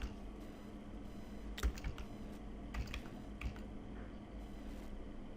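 A user name being typed on a computer keyboard in short, irregular bursts of close, soft key clicks over a quiet room hum.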